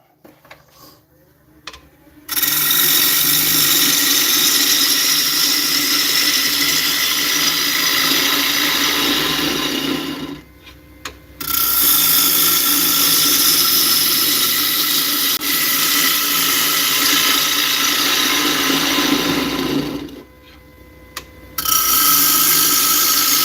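A lathe takes heavy cuts on a walnut bowl, producing loud, harsh, sustained scraping roars in three long passes separated by brief quiet pauses.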